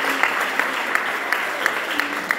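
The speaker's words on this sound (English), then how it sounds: "Clap for her." An audience at a gathering claps, dense and lively, with a regular beat of louder claps running through it.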